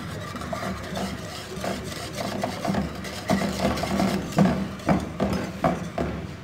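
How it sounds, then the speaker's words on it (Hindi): Malai cream is stirred in a pot while cooking down into ghee, giving repeated scraping and rubbing strokes of a spoon against the pot at a steady rhythm. "हर आधे घंटे बाद आके इसको हम इस तरह से हिला देंगे ताकि ये नीचे से ना लगे"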